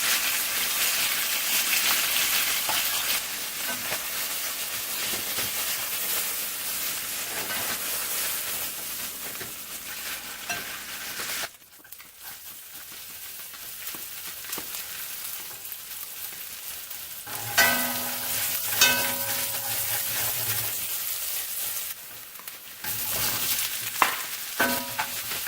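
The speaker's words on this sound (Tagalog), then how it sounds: "Medium fry lang yung chicken." Chicken pieces frying in a pan until golden brown, a steady loud sizzle with stirring clatter, a brief quieter stretch midway, then renewed crackling and spatter; no talking.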